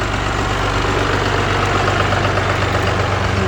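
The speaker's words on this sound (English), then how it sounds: "The way the traffic sounds." Steady traffic with idling engines, a low continuous rumble of heavy and mid-sized motors holding an even level throughout with no talking.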